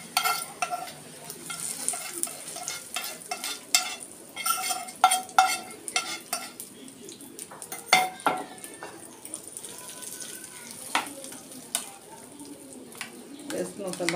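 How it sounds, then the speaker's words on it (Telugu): Hot tempering being stirred into cooked rice in a pot, heard as irregular spoon scrapes and knocks against the vessel over a faint sizzle, with a few sharper clinks near the middle. "వేసుకుని ఒకసారి బాగా కలిపేద్దాం."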